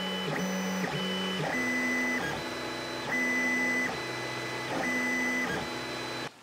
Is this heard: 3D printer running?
yes